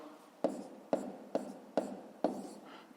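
A pen writes numbers on paper for a fifth-grade math exercise, several short scratchy strokes in a regular rhythm, close and quiet.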